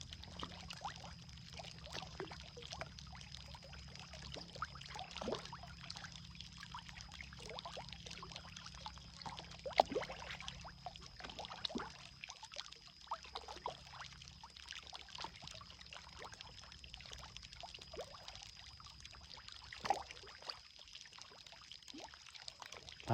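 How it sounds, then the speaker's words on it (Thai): Fish in a pond, including walking catfish, feeding at the surface, heard as faint soft splashes, plops and trickling water scattered over steady low background noise, with no voices. "มันมาฟังเสียงปลากินนี่พี่น้อง"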